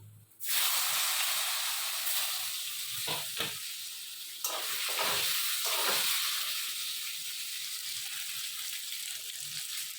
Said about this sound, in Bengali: এবার এই পটলগুলো ভেজে নিচ্ছি এই মাছ ভাজার তেলেই